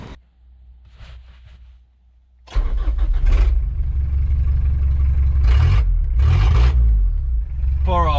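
An old truck with a straight-pipe exhaust, used for gravel carting, cranks and fires up into a loud, rough, close idle rumble with a couple of blips of revving; quieter mechanical sounds precede the start.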